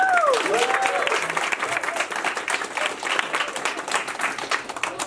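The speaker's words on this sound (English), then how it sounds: "let's get one last round of applause for our entrepreneurs" Audience applause for young entrepreneurs at a 2019 pitch competition, steady dense clapping from a crowd filling the room throughout, with a brief whoop or cheer near the start.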